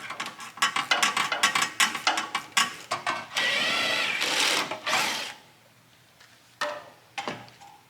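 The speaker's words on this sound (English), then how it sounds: "We're gonna remove that bolt with a 12mm long socket." A ratchet with a 12mm long socket works an exhaust bolt loose on an Infiniti G35 coupe, rapid clicking bursts in quick succession followed by a sustained whir and a few final clicks.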